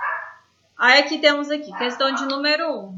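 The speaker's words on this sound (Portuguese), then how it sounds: "Olha os cachorros latindo." Dogs bark and yip repeatedly nearby behind someone speaking during an online class, their barks partly overlapping his voice.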